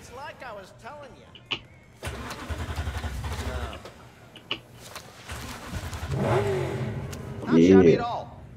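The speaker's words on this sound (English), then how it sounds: "Start engine." A car engine starts up in the game Cyberpunk 2077, with cranking and a rising rev in the middle, while character voices talk before and after over the engine.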